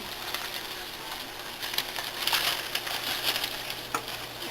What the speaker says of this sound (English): Just mix it all in one bowl.